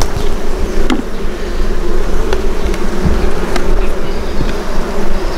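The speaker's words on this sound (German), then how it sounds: "Hier krabbeln die Bienen und fressen ihren Honig." Honey bees hum loudly and continuously at an open, smoked beehive, a dense close swarm buzz with a few sharp clicks and no talking.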